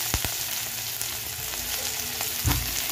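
Green chili and ginger pieces fry in hot oil with cumin seeds, a steady close crackling sizzle with scattered sharp pops and a brief louder hiss near the end.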